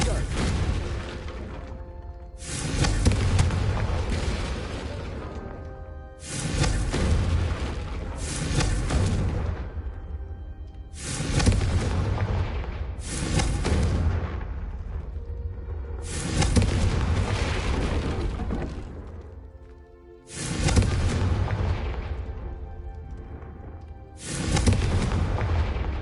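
Repeated Confringo blasting spell explosions in Hogwarts Legacy, about seven heavy booms each rolling into a long decaying rumble, spaced a few seconds apart, loud and close, with a voice heard among them.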